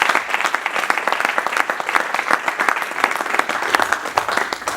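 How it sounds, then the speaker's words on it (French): A church congregation applauds loudly and steadily for God, dense clapping filling the whole stretch without a break, close and energetic with no voices standing out. "On acclame très fort pour notre Dieu."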